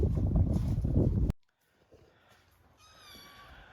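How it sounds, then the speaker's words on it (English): A small stray kitten at a farm barn gives a faint, high meow near the end after a loud burst of wind or handling noise. "I don't know where this little kitty cat came from, but it was up here at the barn the other day"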